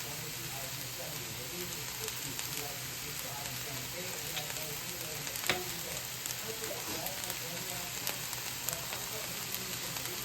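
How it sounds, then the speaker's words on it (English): Chopped vegetables sweating in a frying pan with salt and pepper, a steady soft sizzle with occasional faint stirring scrapes, close by, with quiet speech in the background. "Then we're still sweating these guys out, cooking them, just giving them a good stir every now and then so that they don't burn."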